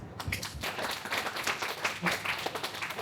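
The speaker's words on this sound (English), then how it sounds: "another huge round of applause for that" A workshop audience gives a round of applause, many hands clapping in a brisk, slightly uneven rhythm that stays loud and close throughout.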